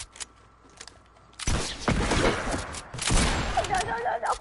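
Gunfire in a video game: after a quiet stretch with a few faint clicks, loud close shots burst out in two clusters of sharp cracks and echoing blasts, with some talking in the background.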